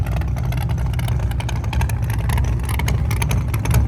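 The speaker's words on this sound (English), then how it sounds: "smoking out those little 28s on this big bad Chevrolet Nova" A big Chevrolet Nova nitrous drag car on small 28-inch tires roars loud and constant as it does a burnout, its heavy engine rumble topped by a rough, crackling rasp that holds steady throughout.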